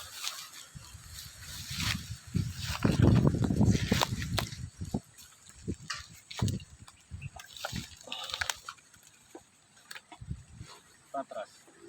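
Water splashing as people wade across a river, irregular sloshing bursts close by and loudest early on, mixed with voices talking over the splashing.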